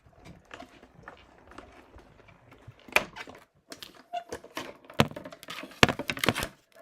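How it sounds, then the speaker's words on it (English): Hand-cranked embossing machine feeding a card through an embossing folder, giving irregular ticking, clicking and grinding knocks, soft at first and growing louder with several sharp clacks near the end. "I'm just going to crank that through"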